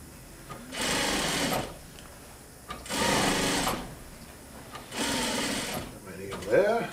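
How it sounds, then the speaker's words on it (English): A sewing machine stitches piping onto a chair cover in three steady whirring runs of about a second each, separated by pauses, with a person talking nearby. "Plant the needle, work my piping around."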